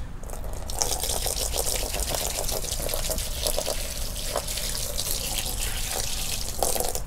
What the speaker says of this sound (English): If I had like a bottle of water that was to the side and actually fell over and